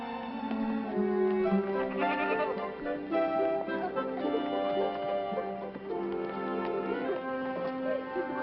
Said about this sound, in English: Come on, you silly goat.